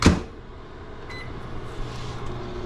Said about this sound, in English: I'm gonna try the microwave trick with the garlic.